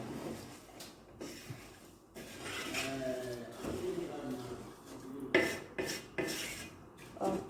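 Fried basmati rice with turmeric being mixed in a metal pot, with close, busy scraping and clinking of a spoon against the pot in irregular bursts and a soft voice underneath at times.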